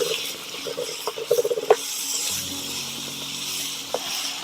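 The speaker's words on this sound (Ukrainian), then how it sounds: "Вон як шкварчить." Cabbage sizzles in a hot pan with a soft, steady crackle, broken by a few quick clicks and scraping stirs near the start.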